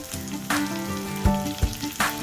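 Garlic and curry leaves frying in a pan for mutton keema: a dense, continuous oily sizzle with sputtering pops and a few louder bursts, over a low background hum of music.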